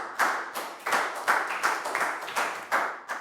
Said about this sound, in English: High five and a big round of applause for Prow, please, guys.